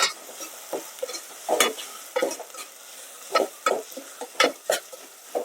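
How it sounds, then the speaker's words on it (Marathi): A ground masala of coconut, onion, garlic and green chilli sautés in oil in a pan, with soft sizzling and repeated scraping stirs in an uneven rhythm, close by and without talk. "हे वाटण आपण त्याच्यात घालूया आणि त्याला चांगलं तेलात परतूया."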